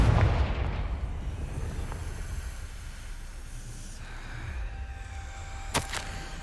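A Confringo blasting spell explodes in the video game Hogwarts Legacy, opening with a heavy booming blast that rumbles and fades into a long low roar, ending with a sharp crack, no talking.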